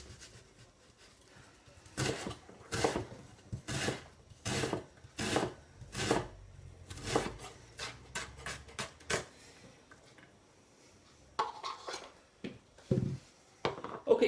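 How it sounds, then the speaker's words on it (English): A knife chops onions into rough dice on a board, a run of close, evenly spaced thuds, a pause, then a few more scattered chops. "I'm going to get this chopped up into dices. Don't have to be too small, just sort of rough dices"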